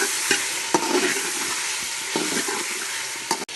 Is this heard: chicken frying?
yes